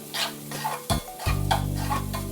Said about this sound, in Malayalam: ഇനി ഇതിലേക്ക് റൈസ് കുക്ക് ചെയ്തത് ആഡ് ചെയ്ത് ഒന്ന് നല്ലോണം മിക്സ് ചെയ്ത് എടുക്കാം.